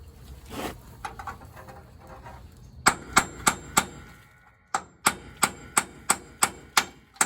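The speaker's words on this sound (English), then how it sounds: "I'm going to try and tap it out with a punch." Sharp metallic hammer taps on a punch, tapping out a bolt on a 1961 Willys Jeep CJ5 leaf spring, come in two steady bursts, each ringing briefly, after a stretch of quiet shop noise.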